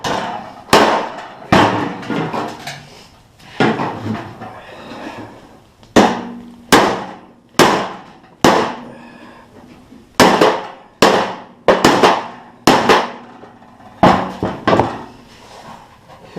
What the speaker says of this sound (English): So sometimes it takes a bigger hammer.